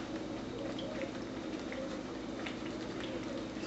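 Ghee bubbling in a cooking Mysore pak mixture, a steady low simmer with faint scattered pops and crackles throughout, moderately close and without talk.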